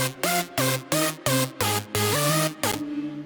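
Two happy hardcore synth lead patterns play together in bright, loud, choppy stabs that form a rhythmic melodic sequence, ending in a short decaying tail, with no talking.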